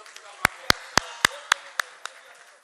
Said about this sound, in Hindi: एक जोरदार तालियों के साथ स्वागत हो जाए श्री लालचंद शर्मा जी।